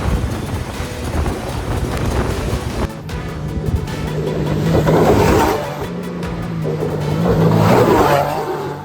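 A Can-Am Maverick R side-by-side driving through a run of whoops, its engine roaring and surging in waves under heavy wind buffeting, with the revs rising and falling as it crosses each bump.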